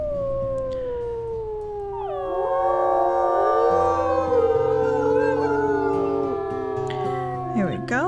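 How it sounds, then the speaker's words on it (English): A wolf pack in the video game WolfQuest howls together, long rising and falling voices layering into a loud chorus that swells midway and holds for several seconds, with yips breaking in near the end. "We may want to go ahead and do our howl for the day."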